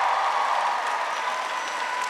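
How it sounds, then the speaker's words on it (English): A large audience at UNC Chapel Hill applauding the governor, a steady, dense wash of clapping from a big crowd that holds evenly for the whole stretch. "Give her a big round of applause."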